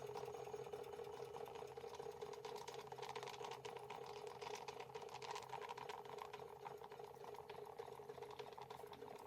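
Marklin 16051 twin cylinder model steam engine driving a small water pump, giving a steady, fast mechanical chatter with a constant hum, running continuously at moderate level without speech.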